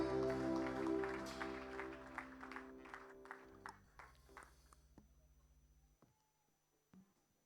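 A church congregation claps together at a service, loud at first and then thinning into scattered, fading claps over a fading musical drone.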